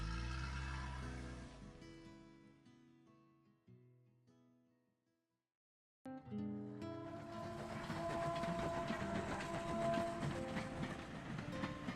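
A train-running sound effect in a Marathi audio drama: music fades into a brief silence, then a loud, steady rumble of train carriages rolls on continuously to the end.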